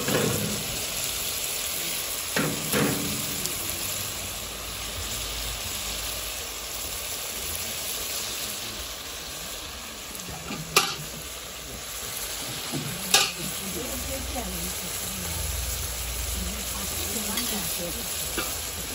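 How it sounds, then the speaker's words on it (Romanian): Meat frying in a crowded pot outdoors at a camp gives a steady, loud sizzle with continuous stirring noise throughout, broken by a few sharp clanks around the middle and later on. "O prăjeală puternică."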